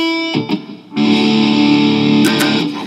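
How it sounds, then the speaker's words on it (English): A distorted electric guitar tuned to drop D runs through a Digitech GNX2 effects unit. It plays a short stab, pauses, then rings out in a sustained, saturated chord up close, with no voices. "you should have some distortion. I'm using my my Digitech GNX2."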